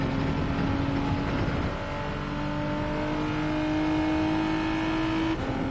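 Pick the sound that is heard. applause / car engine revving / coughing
car engine revving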